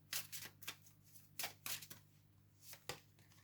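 Tarot cards are shuffled and drawn in a few quick riffling bursts of papery flicks and slaps, close and fairly quiet, with gaps between them and a low steady hum underneath.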